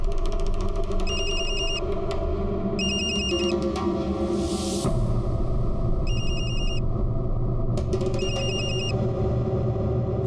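A telephone rings in repeated bursts of bright electronic trills, several rings with pauses between, over a steady low rumble of background noise.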